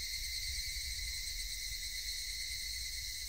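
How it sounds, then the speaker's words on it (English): Cicadas from the game Higurashi When They Cry drone in a loud, continuous shrill buzz that holds steady throughout with no pauses, alone without any voices. "Only the cry of the cicadas remained annoyingly loud."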